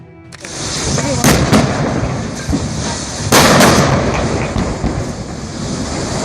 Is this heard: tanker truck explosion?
yes